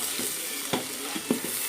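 Vegetables for chicken noodles sauté in a pan, a soft steady sizzle with a few light stirring scrapes, close and without talk.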